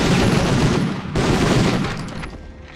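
A grenade blast in the PlayStation 1 game Medal of Honor, a loud, dense burst of explosive noise that rolls on with a second surge before fading out over a couple of seconds.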